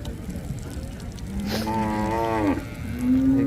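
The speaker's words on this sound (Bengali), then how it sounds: "এখানে একটা খুব সুন্দর গরু আছে" A cow lets out a long, close, drawn-out moo over a noisy outdoor cattle market background, and a second low moo begins just before the end.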